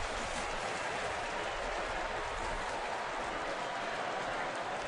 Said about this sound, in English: And the Gator fans applauding.